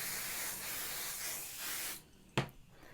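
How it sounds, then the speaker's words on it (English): Temporary adhesive spray hisses steadily from a can onto quilt batting for about two seconds, close and fairly loud, then stops, followed by a brief soft tap. "so we will spray the batting."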